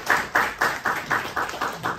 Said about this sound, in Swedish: En applåd Lina.